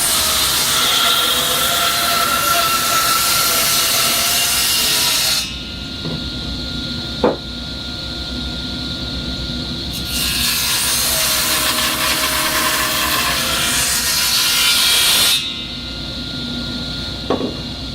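A table saw rips through wood in two long passes. A loud, steady cutting whine stops and restarts, with a few sharp knocks in the brief lulls.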